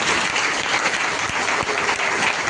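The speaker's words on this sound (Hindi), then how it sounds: "जोरदार ताली बजाओ उसकी महिमा के लिए।" A church congregation at a Sunday service claps loudly together, a dense continuous wash of applause holding steady at full strength from start to finish, with no talking over it.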